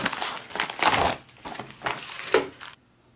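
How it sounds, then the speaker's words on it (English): A plastic XMRE meal pouch is peeled open by hand at its seal, making loud, close crinkling and crumpling in a few bursts that stop abruptly into silence. "this does have a little peelable seal, has a little notch up here, it makes it easier to open it up by hand."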